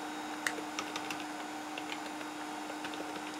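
Someone types on a computer keyboard with quick, light, scattered keystrokes and a few sharper clicks over a steady electronic hum, close and fairly quiet, with no speech.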